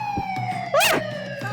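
A short electronic siren tone for a special Golden Time mission on a treasure hunt at Kave Town Island, rising and falling in a quick sweep, loud and close, over a steady hum with no talking.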